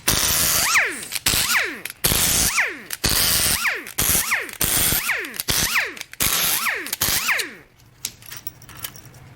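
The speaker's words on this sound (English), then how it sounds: "Time to get the head off driver's side." A power tool, likely an impact tool, removes the driver's side cylinder head of a 6.2L L94 engine during a core teardown. Close, loud bursts repeat about eight times in a rhythm, each followed by a falling whine, then the tool goes quiet.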